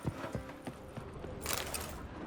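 Horse hooves clop in The Witcher 3, a few distinct thuds at the start, then a denser rush of hoof noise under the game's ambient sound.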